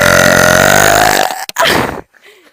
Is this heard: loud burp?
yes